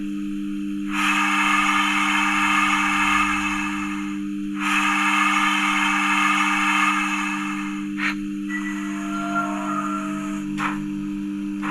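A Rapido GWR 44xx model steam locomotive on analog DC control hisses in two long, steady bursts over a constant electric hum, followed by short chuffs and a brief whistle.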